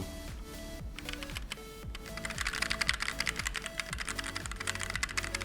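Steady typing on a SteelSeries Apex 7 mechanical keyboard with red switches, soft rapid keystrokes over background music with a repeating beat.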